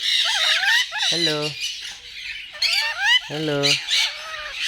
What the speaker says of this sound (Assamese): ইয়াত দেখা পাইছে এইকেইটা লৰি হয় এইকেইটা।